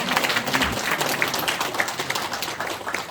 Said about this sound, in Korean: 상을 받으신 분들에게 축하의 박수 한번 해주겠습니다